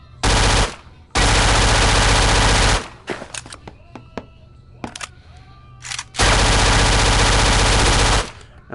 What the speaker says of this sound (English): Scorpion Evo, which is actually one of the most fast firing rifles, submachine guns in the world